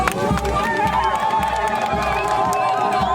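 A crowd at a bridge inauguration in North Kivu cheers and claps as ribbons are cut, a continuous mix of shouting voices and scattered applause, steady and moderately loud.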